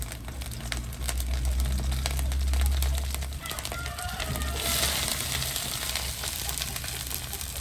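Curry leaves, onion and green chilli fry in hot oil with a constant close sizzle and crackle. A low rumble fills the first few seconds, and a brief muffled voice is heard under the frying.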